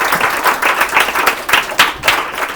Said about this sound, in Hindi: जरा जोरदार तालियों से स्वागत कीजिए